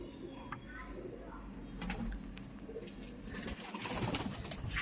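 Pigeons coo steadily in a small breeding loft with separate male and female sections, soft and close, over a constant low background hum and faint voices.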